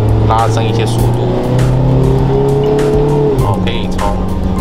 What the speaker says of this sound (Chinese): 可以从引擎的声浪听得出来。